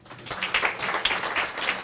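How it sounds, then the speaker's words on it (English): A brief burst of audience applause at a community meeting on reentry for ex-offenders, a short, moderately loud patter of hands clapping that rises quickly and holds. "So give him an applause."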